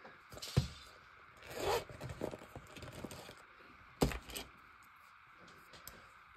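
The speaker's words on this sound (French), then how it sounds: "il y a une partie où j'ai pas mis de colle et où je vais venir utiliser mon cutter magique" A craft cutter scraping across paper during a collage project, heard as several close, dry scratching strokes with soft rustling between them.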